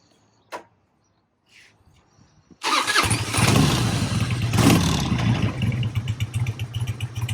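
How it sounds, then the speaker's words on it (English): Harley-Davidson motorcycle engine cranking and firing up after a few small clicks, then settling into a loud, rumbling idle with a steady low throb, close to the listener. "It'll start right up."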